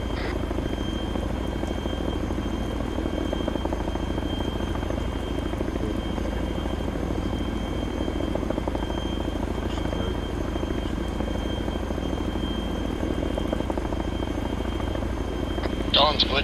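A military helicopter runs steadily throughout with a constant, droning rotor and engine roar, while soldiers talk over it.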